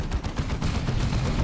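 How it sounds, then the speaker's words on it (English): Las cannon fire in the strategy game Dawn of War 2: Retribution, heard as a dense rapid run of loud booming impacts layered with battle noise. "One more las cannon shot will do it."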